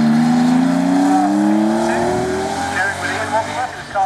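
A Porsche 911 race car at a sprint event cornering at Paddock corner, engine pitch rising loud and near as it accelerates, then easing with tire and engine fluctuations.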